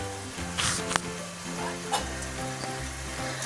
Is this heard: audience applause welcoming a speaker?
no